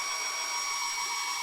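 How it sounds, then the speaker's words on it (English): A hairdryer blows a steady, airy hiss, constant and fairly faint, with no voices. "I'm going to give this a blast with the hairdryer."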